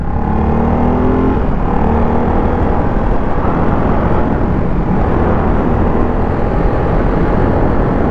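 Ducati 698 Hypermotard motorcycle accelerating at full throttle, a loud, dense engine roar with wind rush, continuous and close for the whole stretch.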